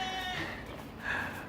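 Goats bleat in short nasal cries, one early and another about a second later, close by and fairly loud over a steady farmyard background.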